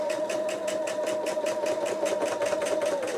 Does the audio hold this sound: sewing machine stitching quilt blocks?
yes